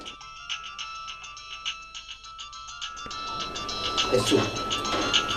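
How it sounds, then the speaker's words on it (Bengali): A phone's electronic ringtone melody repeats for about three seconds, then stops as people start talking over background noise. "মিজান ভাই ফোন করছে।"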